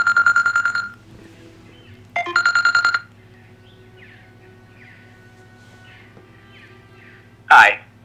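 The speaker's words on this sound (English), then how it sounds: "we could just get a phone call, I guess" A phone rings with an incoming call in the game Fable Anniversary, two loud bursts of electronic ringing, a short pause between them, over a steady low hum, followed by a brief chirp near the end.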